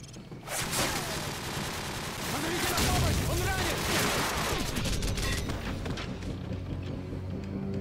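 Rapid video game gunfire in a loud sustained fusillade of overlapping shots and booms, dense throughout and tapering toward the end, with a voice talking over it.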